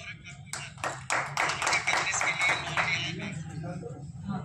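Clapping bursts out at a bank branch opening ceremony: several sharp claps, then a dense patter of applause from a crowd heard under a speaker's amplified voice.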